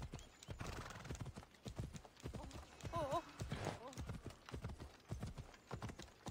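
Rhythmic hoof clip-clops of a horse in a video game run throughout, with a short horse whinny partway through and a voice talking over them.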